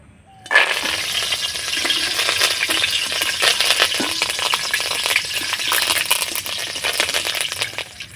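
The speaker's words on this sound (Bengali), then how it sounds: "ওই তেলের মধ্যে আমি ভেজে নেব কিছুটা পরিমাণে নিয়েছি কারি পাতা" Curry leaves are dropped into hot oil in a strainer and burst into a loud, close, crackling sizzle that starts abruptly and continues steadily with spattering pops; no one speaks.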